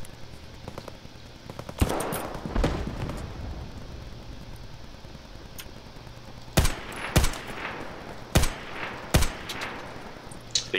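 Video game gunfire crackles in bursts: scattered distant shots early, then several sharp, loud single reports and short volleys spaced a second or so apart, with no talk over them.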